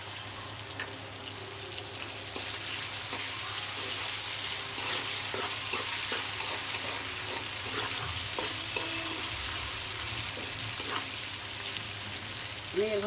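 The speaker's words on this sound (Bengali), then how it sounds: "আমি শুটকি মাছগুলো একটু ভেজে নেব।" Dried fish (shutki) fries in oil in a wok, giving a loud, steady sizzle with occasional scraping stirs and clinks throughout.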